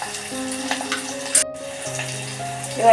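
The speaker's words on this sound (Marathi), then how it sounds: "कढीपत्ता टाकते कांदा चांगला परतून घ्यायचा" Curry leaves and onion sizzle and fry in a pan for a Malvani-style jackfruit seed vegetable, a steady frying hiss with tonal hum underneath and a brief louder burst midway, without speech.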